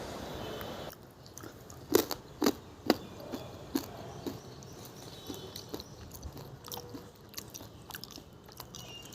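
Crisp roasted puffed wheat crunched close to the mic, a run of sharp bites followed by quieter chewing crackles over a faint background hum.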